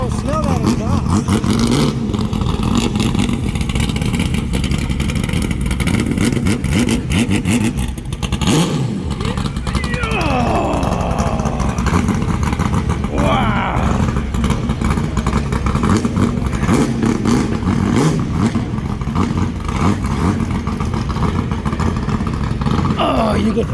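Car engine on slick racing tires revving hard through loud exhaust pipes on a Hollywood street, a continuous throaty roar with rising surges, heard under excited chatter from people nearby.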